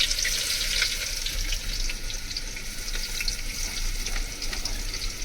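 Onions frying in a pan on a roadside cooking stop during a truck journey, a steady, close, even sizzle that holds throughout with no voice.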